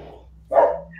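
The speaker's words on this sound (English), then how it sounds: "that's not my dog" A dog barks once, close and fairly loud, with a short burst of yelps over a quiet room where people are cooking and talking.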